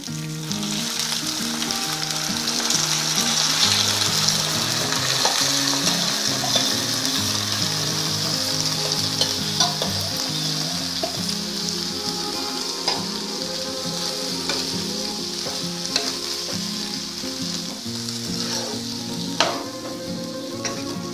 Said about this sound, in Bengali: আমি এবার ডালটা সেদ্ধ করা ডালটা দিয়ে দিচ্ছি